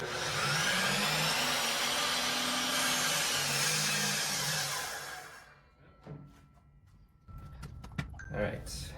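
A miter saw cuts through wood, a loud, sustained whining roar lasting about five seconds that then winds down, followed by lighter clunks and handling noises as the board is moved.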